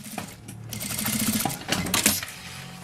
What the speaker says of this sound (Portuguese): E aqui, ó, eu passo uma costura